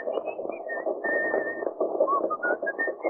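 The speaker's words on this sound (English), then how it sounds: "What's that tune you're whistling?" A man whistles a wavering tune on an old radio drama, thin and faint above a muffled, crackly background of low noise.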